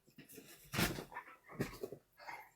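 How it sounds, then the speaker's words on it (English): A dog whimpers and whines close by in a few short, uneven bursts, with breathy snuffling between them. "I really might need you to take this dog."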